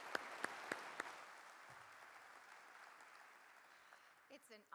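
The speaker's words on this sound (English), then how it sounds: "Huge round of applause for Dr." Audience applause at a medical institution's event, a few sharp claps at first and then a soft, steady, fairly distant patter that fades toward the end.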